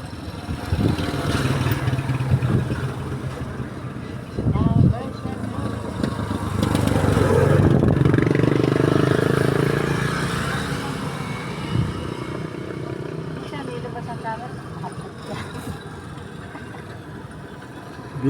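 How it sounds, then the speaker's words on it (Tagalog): Motorcycles and cars stream along the busy Diversion Road highway, with a steady engine drone and tire roar and one louder vehicle swelling past mid-way before the traffic settles back to a constant hum. "Wala tigil ang daan ng mga sasakyan."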